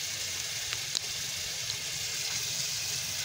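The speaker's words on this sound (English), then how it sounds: "Now I'm rinsing the starch off of the potatoes." Potatoes rinsed of their starch under a running kitchen tap, a steady close rush of water with faint clinks, no voices.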